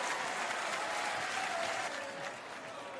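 A sold-out arena crowd at WWE SmackDown in Perth, Western Australia, claps and cheers in a thick, continuous roar that eases slightly after a couple of seconds.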